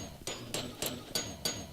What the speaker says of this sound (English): you got to hit the anvil with the hammer